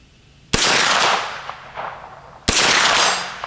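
Two sharp gunshots from a Smith and Wesson pistol caliber carbine fired outdoors toward a 100-yard target, each a loud crack with a ringing decay, spaced about two seconds apart.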